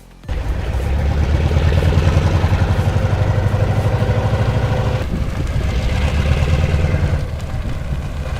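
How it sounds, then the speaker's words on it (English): A snow plow truck engine roars loud and close, a steady heavy drone that swells and dips slightly, with no voices over it. "Just listen to that engine roar."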